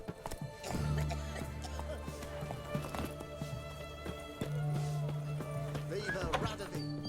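Geralt's horse Roach gallops in The Witcher 3, quick rhythmic hoof clip-clops over a droning game soundtrack, with a snort or whinny near the end and voices speaking over it.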